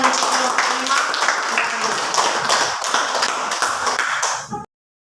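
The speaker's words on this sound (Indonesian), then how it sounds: "mari kita tepuk tangan untuk kelompok 5" Classroom applause for a student group after their presentation in a civics lesson, a steady dense patter of many hands clapping close by for several seconds before cutting off abruptly.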